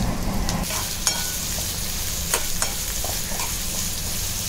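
Chopped onion fries in a pan with a steady, close sizzle, while occasional scrapes and clicks of stirring break through the hiss; no voices.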